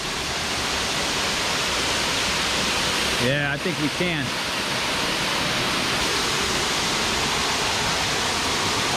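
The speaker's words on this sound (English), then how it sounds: "check out the lower waterfall underneath that shelf" Lower waterfall beneath a rock shelf at Quaker Falls Recreation Area in Edinburg, Pennsylvania, a steady loud rushing roar of falling water throughout, with someone briefly speaking over it midway.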